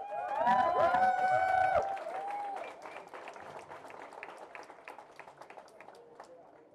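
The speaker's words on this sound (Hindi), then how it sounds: "दोस्तों एक बार जोरदार तालियां खिड़कियां की पूरी टीम के लिए" Audience applause for the Khidkiyaan theatre team at a festival auditorium, with dense clapping swelling at first under a spoken announcement, then continuing alone as scattered, thinning claps that trail off.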